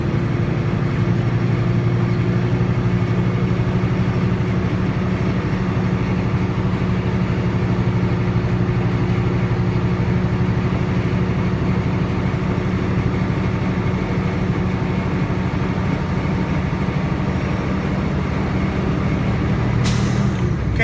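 Truck engine held at steady raised revs in the cab to fill the air brake tanks, a loud continuous drone with a sharp air hiss bursting out right at the end.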